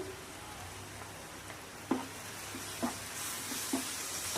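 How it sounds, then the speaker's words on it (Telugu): Onions fry with turmeric and ginger-garlic paste in a pan for an egg kheema curry, giving a low steady sizzle with a few soft stirring clicks and scrapes near the middle and end. No one speaks. "ఉల్లిపాయలు వేగుతున్నాయి కదా, దీంట్లో కొంచెం పసుపు, అల్లం వెల్లుల్లి పేస్టు"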